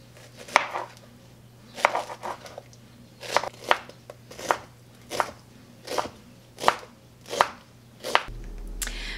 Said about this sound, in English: Then I'm just going to cut around the core. And then I'm gonna chop it.